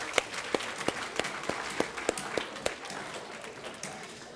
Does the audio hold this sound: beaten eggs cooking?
no